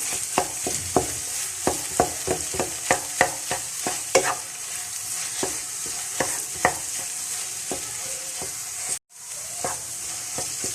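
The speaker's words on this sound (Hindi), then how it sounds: "मुसलसल आपने इसको हिलाना है ताकि नीचे ना लगे, बहुत अच्छा सा गोल्डन हो जाए।" Makhadi halwa being stirred and roasted in a pan, heard as a steady run of spatula scrapes over a continuous frying sizzle, with a brief dropout near the end.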